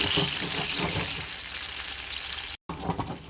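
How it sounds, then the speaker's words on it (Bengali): A lightly salted egg fries gently in a pan for korma, a continuous close sizzling hiss that cuts out briefly near the end. "ডিমটাকে হালকা একটু লবণ দিয়ে দেখে নিচ্ছি হালকা ভাজি"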